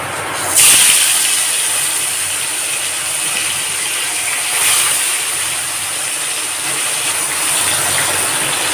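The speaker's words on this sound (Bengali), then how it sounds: "তেলটা গরম হয়ে গেছে মাছগুলোকে ভেজে নেব" Parshe fish dropped into hot mustard oil, a loud sudden sizzle that flares up, then settles into a steady hissing fry with a second flare midway, close and with no talk.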